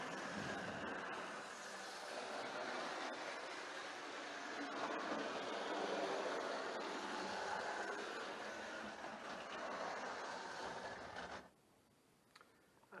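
Mehano TGV Ouigo model train running on a layout, a steady close whirring rumble that holds for about eleven seconds and then drops away abruptly near the end.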